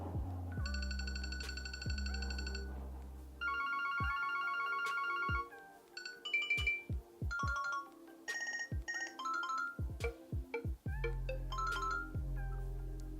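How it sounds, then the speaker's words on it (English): A sequence of different electronic ringtones from a Yealink W60P cordless DECT IP phone, some chiming melodic patterns, others warbling trills, each playing briefly with clicks between them as they change. "maybe have a look at the ringtones."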